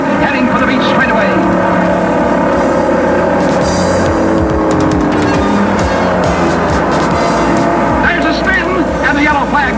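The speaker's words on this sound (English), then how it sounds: "The race is on as 28 cars roar through the hairpin south turn, heading for the beach straightaway." A pack of 28 NASCAR race cars roars through the hairpin south turn of the Daytona Beach course, a dense, continuous, loud engine roar that fills the whole clip without pause.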